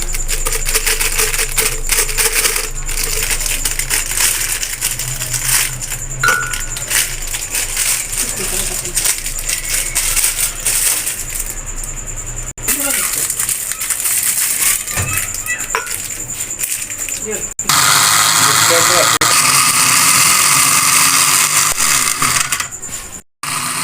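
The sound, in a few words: grinder jug grinding biscuits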